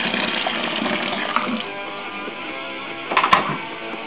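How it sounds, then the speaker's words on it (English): Boiling water from a kettle is poured into glass beer bottles to clean them, making a steady, rushing splash of liquid that runs nearly the whole time and swells briefly near the end. "Boiling water from the kettle."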